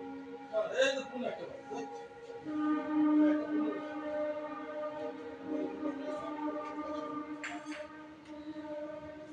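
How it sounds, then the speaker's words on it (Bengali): Toy train pulling in at the Howrah Rail Museum in Kolkata, a steady rumble of the small train with a brief whistle or horn toot, heard at moderate distance beneath outdoor crowd chatter and nearby talking. "দেখুন বন্ধুরা টয় ট্রেন, এই যে টয় ট্রেন এলো"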